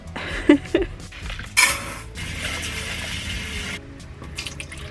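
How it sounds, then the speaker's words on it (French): Rice being rinsed in a sink under running tap water, with a few clinks of a pot or utensil at first, then a steady splashing stream that stops near the end. "Personnes qui disent qu'il faut pas rincer le riz, vous faites comme vous voulez, moi je le rince et puis c'est tout."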